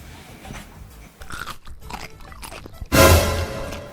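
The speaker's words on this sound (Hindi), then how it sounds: "तुम नहीं खा रहे हो तो चबड़ चबड़ की आवाज कहाँ से आ रही है?" Loud, close chewing and crunching comes through as irregular wet bites, ending in one heavy crunch near the end.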